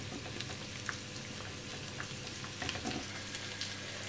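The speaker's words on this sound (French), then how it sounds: "Donc je vais remuer à feu moyen jusqu'à l'épaississement." Milk and garlic sauce stirred in a saucepan over medium heat gives a steady low sizzle and bubbling, with faint scraping from the spoon running throughout and no talk.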